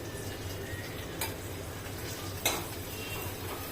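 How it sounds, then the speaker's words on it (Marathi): Red chili powder, onion-garlic masala and turmeric are stirred and sautéed in a pan for misal, with a soft frying hiss and a couple of distinct metal spoon clinks against the pan, close and without voices. "हे छान आता परतवून घ्यायचं आहे"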